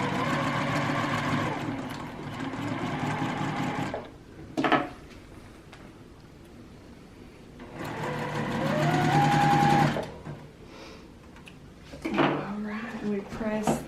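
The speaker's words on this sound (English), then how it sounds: "And just do this nice close 1/4 inch seam." Sewing machine running a close quarter-inch quilt seam on courthouse steps blocks, in bursts of steady whirring stitching broken by pauses with handling noises and someone talking.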